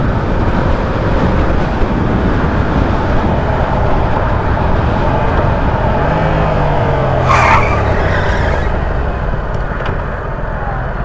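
A 2022 Yamaha R7 motorcycle engine on a test ride, a loud, continuous roar blended with wind rush that swells slightly mid-way, with no talking over it.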